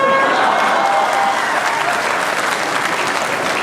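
Loud, close audience applause at a Hindi poetry show, a dense steady crowd clapping throughout with a faint voice briefly audible at the start.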